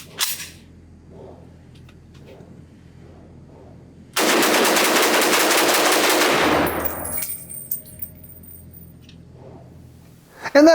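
A 1954 Russian-made SKS carbine fires in a rapid, continuous string of shots lasting about three seconds, loud and close. Quiet handling noises come before the burst, and a final loud report follows it.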